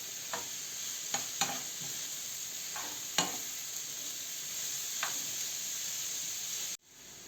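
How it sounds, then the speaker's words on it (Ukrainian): Beetroot sizzles steadily in a hot pan for a borscht dressing while a utensil scrapes and stirs several times, then the sound cuts off abruptly near the end. "а ми робимо засмажку."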